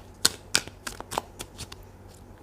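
Tarot cards shuffled for a reading, giving a series of sharp riffling bursts at uneven intervals, close and fairly quiet, with no voices.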